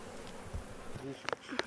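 Honeybees buzz at an apiary beside a quarry site, a soft, steady drone with a few brief louder passes of insects near the microphone.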